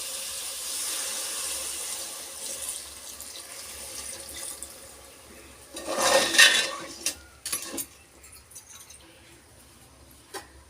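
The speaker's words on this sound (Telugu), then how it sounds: "నీళ్ళు అయితే పోసుకున్నానండి కొన్ని" Water poured into a pan of crab curry with chilli powder, a short splashing burst midway followed by a couple of clinks from the pan, amid an otherwise quiet kitchen.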